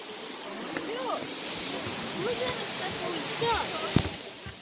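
Rushing water at the Mumlava waterfall makes a steady, loud broadband roar throughout, with children's voices talking over it.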